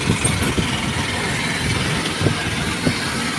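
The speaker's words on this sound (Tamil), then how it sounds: "விஜயவாடாவில் ரொம்ப டிராஃபிக் ஜாம் அதிகமாக இருக்குது" A low, steady engine rumble from vehicles idling in a traffic jam in Vijayawada hums continuously, with a few faint bumps and knocks in the background.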